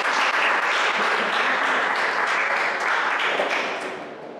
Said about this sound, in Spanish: Vamos, un aplauso a los del fondo.